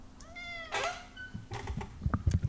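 Close cat meowing, one drawn-out rising meow followed by a shorter cry, with some clattering handling noise toward the end.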